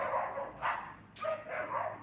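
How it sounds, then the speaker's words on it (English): A dog barks several times at moderate distance, sharp separate woofs spaced through the moment with no talk over them. "Tell the dog to shut off."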